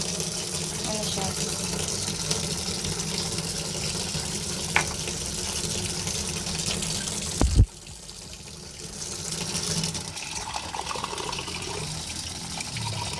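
Cold water runs steadily from a tap in a broad, hissing stream, close and continuous, with a brief clunk midway before the flow carries on slightly quieter; voices talk faintly in the background.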